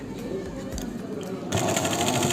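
Sewing machine stitching a dart on a blouse, a steady close mechanical whir that grows louder and faster partway through, running continuously.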